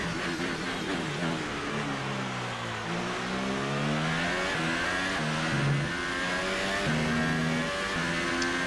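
Formula One race car in the F1 2018 video game, its high-pitched engine revving and shifting through gears continuously, with rising and falling whine, loud and close throughout.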